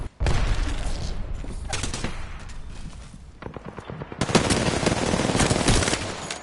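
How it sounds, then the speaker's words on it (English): Gunfire in a shooter video game: bursts of rapid automatic fire, loud and close, coming in repeated volleys with brief gaps and heavier sustained shooting near the end. "I was just getting shot at then by somebody else"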